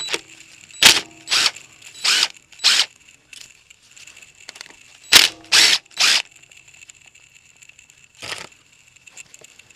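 A ratchet loosening 10mm bolts on a Honda CR-V power steering high-pressure line, heard close as about eight short, sharp clicking bursts in two groups, with quiet gaps between them.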